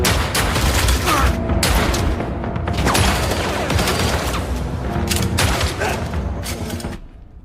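Dense, continuous gunfire in a film shootout between a team and a gang of gangsters: rapid overlapping shots and booming blasts fill the scene at close range with no letup for several seconds.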